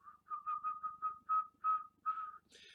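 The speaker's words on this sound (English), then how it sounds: "Another helpful illustration is just the whistle." A person whistles through puckered lips to illustrate an oboe embouchure: a run of short, clear mid-pitched notes in an even rhythm, then a few longer held tones and a brief higher note at the end, close and alone.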